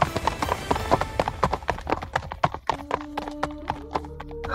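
Horses walking slowly in the late afternoon, their hooves clip-clopping in a steady, uneven patter, fairly close and clear, with an occasional faint tonal sound partway through.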